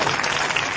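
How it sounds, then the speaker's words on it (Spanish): An audience at a live comedy and music show in Oruro claps together in a dense, steady burst of applause throughout. "Una gran aplausita, pues, hermano"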